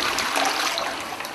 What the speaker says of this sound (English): Years of research has proven that Caroma flush technology is superior to what you would be used to here in North America.